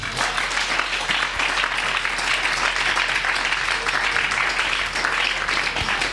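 A church congregation applauds and cheers to acclaim the Lord during a French-language worship service, producing a dense, steady wash of clapping that holds at an even level from start to finish.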